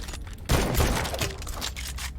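A loud booming blast from the Wild Hunt rocket launcher in Gunfire Reborn, a single heavy shot with a rumbling tail and a few following crackles.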